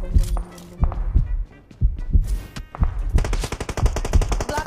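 Gunfire from the PUBG Mobile game starts as single shots and short bursts, then ends in a fast, loud automatic volley, with faint footsteps and other game noise between the shots.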